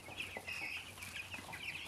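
Broiler and Kenbro chickens on a Kenyan poultry farm cluck and chirp in a busy, overlapping chatter, moderately quiet and steady, with no voices over it.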